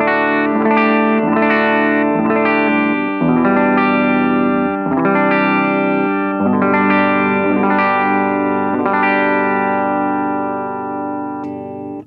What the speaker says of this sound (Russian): Начнем с бриджевого датчика, чистый звук, и слушаем обертона.